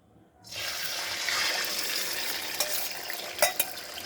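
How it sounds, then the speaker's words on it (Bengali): An egg sizzling as it drops into oil heated on high flame in a pan, with the gas turned down; a steady close frying hiss starts abruptly and carries on, broken by a few sharper crackles and pops. "তো হাই ফ্লেমে তেলটা গরম করে নিয়েছি এখন আমি গ্যাসটা কমিয়ে দেব দিয়ে ওর মধ্যে আমি ডিমটা দিয়ে দেবো ফার্স্টে"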